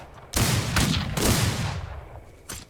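Gunfire erupts in the Old West video game Outlaws of the Old West, a loud booming volley of overlapping shots with a rolling tail, followed by one more sharp shot.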